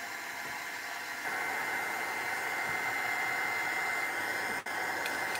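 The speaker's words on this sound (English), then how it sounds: "So drying the gesso." A heat tool blows steadily while drying gesso, a loud continuous airy whir that steps up in intensity after a second and cuts out briefly near the end, with no talking.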